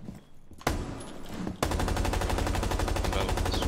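Zofia's light machine gun in Rainbow Six Siege fires a sustained, rapid automatic burst, loud and close, after a short earlier volley, with the steady rattle filling the end of the stretch.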